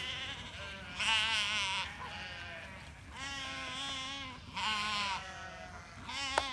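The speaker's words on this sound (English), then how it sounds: "we're going to go see the goats and feed the goats" Goats on a family farm bleating loudly and close by, several long, wavering calls in succession with brief pauses between them, over faint outdoor background noise.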